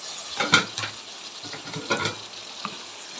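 Brinjal pieces sautéed with onion and tomato in a pan for a tangy kara kuzhambu, a near, steady sizzle with a few quick stirring scrapes and clacks of a spoon on the pan.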